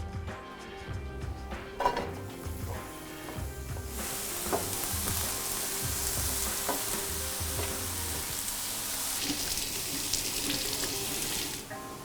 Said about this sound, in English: I'm not gonna fry the onions in butter. I'm gonna use a little coconut oil